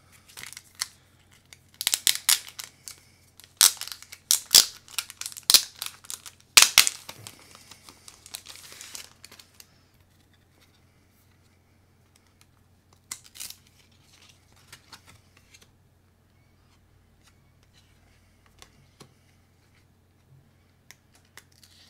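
Plastic and cellophane packaging of a Spider-Man 2 and 3 4K and Blu-ray collection being opened up close, a run of crisp crinkles, snips and tearing clicks over the first eight seconds, then only sparse faint rustles in near silence.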